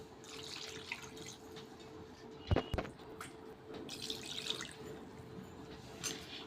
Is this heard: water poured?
yes